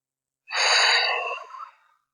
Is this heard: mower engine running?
no